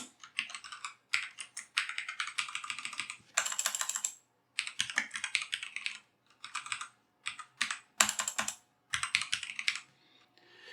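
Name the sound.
typing on a computer keyboard while programming in C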